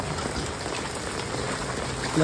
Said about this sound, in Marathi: अजून पाऊस अजून चालूच आहे